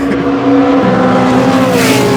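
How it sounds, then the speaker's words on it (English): A loud Ford GT sports car engine roars close by as the car sweeps past at the VSCC Silverstone Pomeroy Trophy race meeting, its pitch shifting as it goes. "there's a Ford GT going right by"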